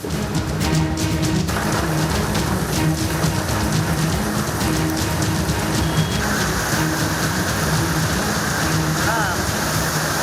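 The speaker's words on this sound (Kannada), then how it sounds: "ನಿನ್ನೆ ಸುರಿದ ಭಾರೀ ಮಳೆಯಿಂದಾಗಿ ಬೆಂಗಳೂರಲ್ಲಿ ಜನಜೀವನ ಅಸ್ತವ್ಯಸ್ತಗೊಂಡಿದೆ" Heavy rain pours down on the streets of Bengaluru, a dense, steady hiss of water hitting hard surfaces close by, unbroken for the whole stretch and with no voices over it.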